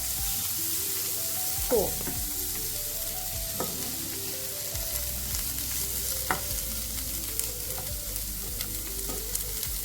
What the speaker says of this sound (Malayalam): ഓക്കെ, നമുക്ക് സോട്ട് ചെയ്യാം.